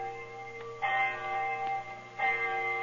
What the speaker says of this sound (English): I remember the hour was striking.